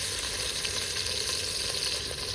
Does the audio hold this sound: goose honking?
no